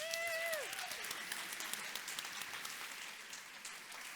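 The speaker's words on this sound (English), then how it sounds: "Dan, you deserve all of that applause." Audience applause for speaker Dan Saladino after his talk on food biodiversity, a sustained wash of clapping from a large crowd, loud at first and easing slightly, with a brief tonal whistle near the start.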